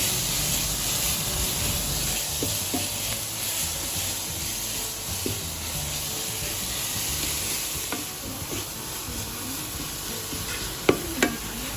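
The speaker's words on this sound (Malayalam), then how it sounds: "അതുകൂടെ ചേർത്ത് നല്ലവണ്ണം ഒന്ന് മിക്സ് ചെയ്തെടുക്കാം" Ground masala stirred into a stuffed chicken filling sautéing in a pan for a Malabar dish, a constant close sizzle with occasional spoon scrapes and a louder clink near the end, no voices.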